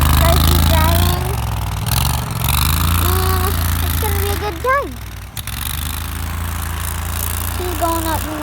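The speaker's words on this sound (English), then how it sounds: "This is my dad going on the COOT, gonna do crazy driving." COOT ATV off-road vehicle engine running as it is driven, a steady low rumble throughout with shifting pitch and brief dips, heard under people talking nearby.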